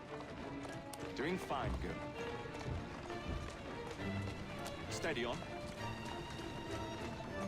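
Horse hooves clip-clop at a run through a Victorian London street in Assassin's Creed Syndicate, a steady galloping patter with occasional heavier thuds, mid-distance, under a rider speaking calmly to the horse.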